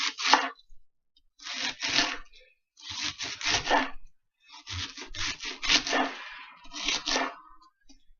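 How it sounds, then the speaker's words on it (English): A knife slices a quartered cabbage into long strips across the grain, coming in bursts of crisp, rasping cuts with short pauses between them, close and fairly quiet. "I'm almost done with my cabbage. I cut it in quarters"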